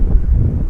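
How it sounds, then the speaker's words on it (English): Strong wind outdoors in downtown El Paso, Texas buffets the microphone with a loud, low, rumbling roar for under a second. "Super windy."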